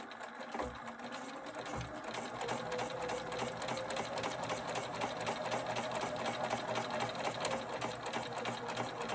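A sewing machine stitches a quarter-inch seam around a finished Blackbird Designs cross-stitch candy cane, a steady fast whirring chatter that runs continuously and fairly quietly after a couple of soft thumps at the start.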